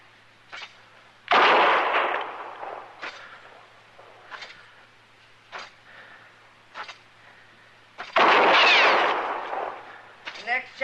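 Gunfire in a Gunsmoke western radio drama: two loud, booming shots about seven seconds apart, each with a long echoing tail, amid sparse sounds and short pauses in the scene.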